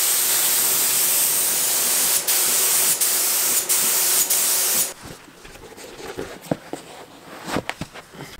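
A spray gun sprays base coat onto a car bumper and hatch in a steady loud hiss with a few brief pauses, then stops, leaving quieter clicks, shuffling and handling noises.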